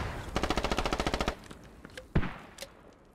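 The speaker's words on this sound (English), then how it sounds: "Taking accurate shots." Automatic rifle fire from the military shooter game Squad: a rapid burst of about fourteen evenly spaced loud shots, then a few scattered single shots and a sharper distant crack, with no talking.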